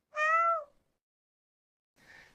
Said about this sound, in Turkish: Elit kedi İspanya'dan geldi ama Diyarbakırlı gibi miyavlıyor varoş.